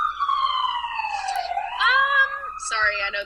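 An ambulance siren wails loudly outside, its long tone sweeping down and then back up as it passes close, with a person speaking over it.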